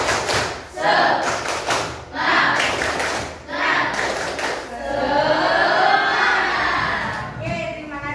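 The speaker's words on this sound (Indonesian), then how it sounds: "coba kita tepuk semangat terlebih dahulu" A classroom of students performs a rhythmic spirit-raising clap in bursts, loud and close. Children's voices shout and chant along with the claps.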